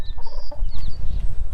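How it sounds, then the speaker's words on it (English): Chickens cluck and squawk in short, high bursts while sprinting down a hill in a garden, close by over rustling and rumbling ground noise. "Oh no, a chicken is running."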